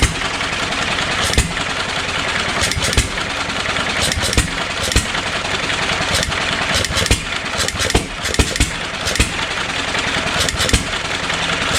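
An old John Deere 1 1/2 HP hit-and-miss single-cylinder stationary engine runs nearby, firing in irregular sharp bangs with gaps between them over a steady mechanical clatter.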